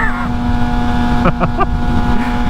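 A sport motorcycle's steady exhaust drone hums at speed beneath rushing wind noise, with a brief voice cutting in partway through.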